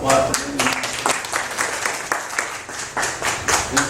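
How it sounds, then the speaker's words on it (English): An audience claps at a leadership workshop, a dense burst of applause with distinct sharp claps that continues steadily throughout, moderately loud and near. "So round of applause for them."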